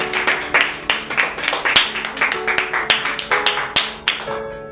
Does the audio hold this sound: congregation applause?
yes